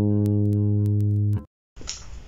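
Bass guitar plays a sustained low note from a bass line, ringing with rich harmonics before being cut off abruptly, followed by silence and then a short burst of muffled, scratchy noise.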